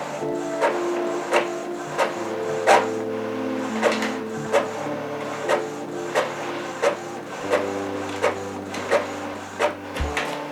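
An Epson EcoTank printer copies documents with a steady mechanical drone, regular clicking and thumping pulses roughly every half second, and shifting motor tones, close and loud with no voices.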